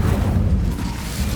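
Incendio fire spell in Hogwarts Legacy lets out a loud, deep whooshing boom of flame, a short rumbling burst with no talk over it.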